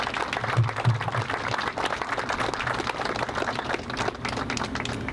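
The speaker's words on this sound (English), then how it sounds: "Could we please give them a round of applause?" An outdoor Flag Day crowd applauds veterans, a dense steady patter of clapping from many hands that carries on for several seconds, moderately loud, with faint voices underneath.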